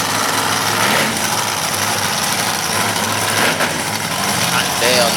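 A monster truck engine runs loud and rough at the starting line of an outdoor fairground race in Durham, Connecticut, a dense steady roar with crowd and commentary blended in.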